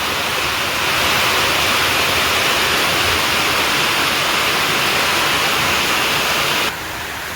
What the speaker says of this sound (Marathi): एवढा जोरदार पाऊस चालू आहे